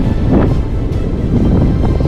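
Strong wind buffeting the microphone with sea surf rolling on Bunes Beach in Norway, a loud, gusty low rumble throughout.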